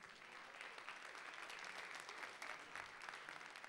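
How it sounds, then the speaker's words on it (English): Audience at a Bollywood dance show applauding, a dense, even wash of many hands clapping from a distance, heard faintly and steadily throughout. "A big round of applause, please."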